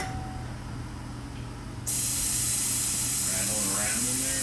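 Air rushes out of a Showa SFF Air TAC motorcycle air fork being let down for a rebuild, a sudden loud, steady, close hiss that starts abruptly and keeps going, with a voice faintly underneath.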